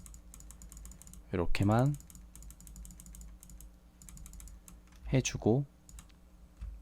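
Computer keyboard keys tapped in quick light clicks for Photoshop shortcuts, a steady soft clatter running through the clip with two short bursts of speech over it.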